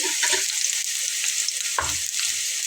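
Eggplant pieces frying in hot oil in a pan, a loud continuous hiss and crackle close by, with a couple of soft knocks as pieces are set down or moved; no talking.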